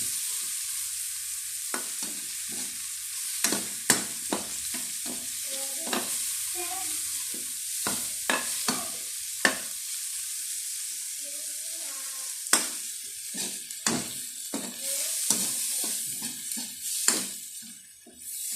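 Squid sizzles steadily in a hot pan with a continuous frying hiss, while a utensil scrapes and clatters against the pan in irregular stirring strokes, close up.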